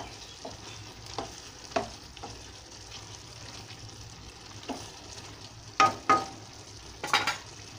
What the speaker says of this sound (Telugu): చూడండి కూర ఉడుకుతుంది కదా